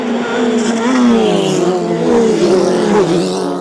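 Race cars roar past close by after a restart following a yellow flag, with a loud, rising and falling engine whine as the pack accelerates.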